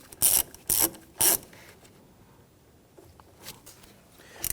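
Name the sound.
tightening battery terminal securing nut, Kia Sorento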